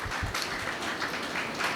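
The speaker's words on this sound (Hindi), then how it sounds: "तो एक बार जोरदार तालियां बेनिफिट वेलनेस के लिए।" Audience applause at a Benefit Wellness business event, a short burst of scattered hand clapping heard from close range with a roomy, moderately loud wash of claps.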